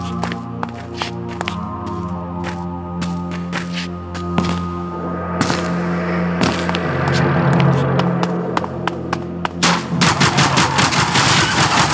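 Gunfire in the Zombie Stories video game, played at a live event: repeated sharp shots crack over steady in-game music, growing denser and more rapid toward the end, with no talk.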